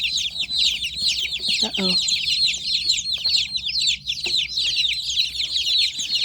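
A flock of meat-bird chicks peeps constantly and busily, with a few low hen clucks mixed in nearby.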